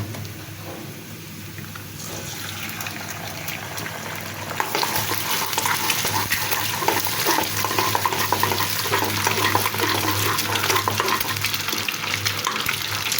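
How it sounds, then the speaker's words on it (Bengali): Steady sizzle of an egg frying in a pan that grows louder and denser partway through, a constant crackling hiss with a low hum underneath and no talking. "ডিমটা আমার ভাজা হয়ে গিয়েছে ডিমটা কিন্তু ভালোভাবে ভেজে নিতে হবে"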